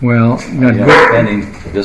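Two dogs bark outdoors in short, sharp bursts, partly masked by a close conversation that continues over them.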